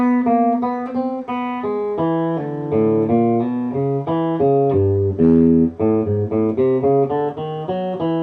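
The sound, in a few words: guitar lick played slowly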